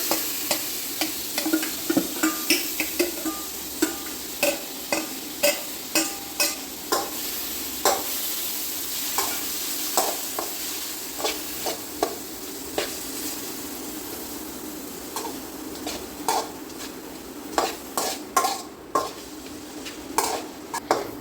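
Mango pieces coated in masala stirred into frying onions for a Kerala mango mappas, with steady sizzling and repeated scraping clicks of a spoon against the pan, close and alone.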